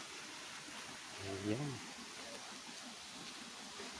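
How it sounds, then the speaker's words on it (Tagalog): A small roadside waterfall running high after upstream flooding, a steady broadband rush of water filling the whole stretch, with a brief spoken word in the middle. "Kaya madadaanan ditong mini falls."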